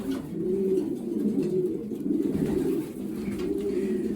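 Racing pigeons coo steadily and close by while being basketed for races, a continuous low throaty cooing from several birds with no talk.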